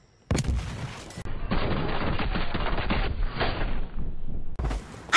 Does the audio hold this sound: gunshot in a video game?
yes